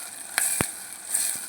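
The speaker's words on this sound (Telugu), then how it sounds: "ఆనియన్ అనేది బాగా ఎర్రగా రోస్ట్ అవ్వాలండి" Chopped onions frying in hot oil for an Andhra-style curry, a steady soft sizzle with a couple of sharp clicks of a utensil against the pan.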